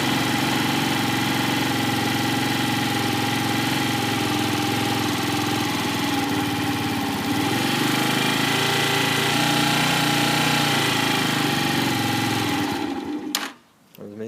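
A Lexmoto motorbike engine idles with the choke on, giving a steady, loud, buzzy putter that runs unbroken for about thirteen seconds before it is switched off and cuts out.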